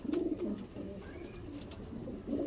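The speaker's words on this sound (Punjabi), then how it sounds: "ਇਹ ਦੇਖੋ ਟੈਡੀ ਕਬੂਤਰ" A Teddy breed pigeon, golden with bright eyes, coos softly nearby in short rolling bursts at the start and again at the end, with a quiet murmur between.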